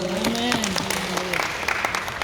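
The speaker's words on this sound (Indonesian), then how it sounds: "Mari kita tepuk tangan Tuhan Yesus." Church congregation applauding during a sermon, a steady wash of clapping with a speaking voice and sustained musical tones running underneath.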